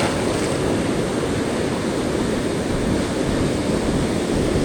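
Ocean waves surge and break on a shallow, gently sloping beach, a steady unbroken roar of surf with wind noise that holds loud and constant throughout, no voices.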